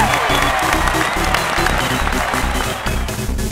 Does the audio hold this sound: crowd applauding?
yes